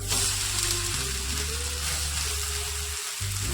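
A millet (bhagar) dhirde fries in a pan with a steady, close sizzle that holds evenly throughout and has a low hum beneath it.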